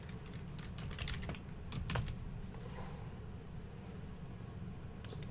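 Typing on a computer keyboard, a few quick bursts of key clicks at close range over a low steady room hum, with no talking.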